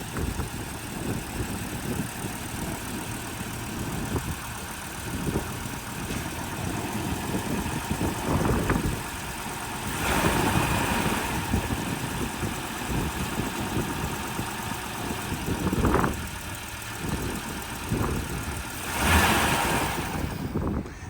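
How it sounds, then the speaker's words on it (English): A 2000 Volvo C70 engine idling after a jump start with a jump box hooked up, outdoors at a tow auction: a steady mid-pitched hum with irregular knocks and rattles, rising briefly in a couple of revving swells. "it does start up with a jump, and actually sounded pretty good"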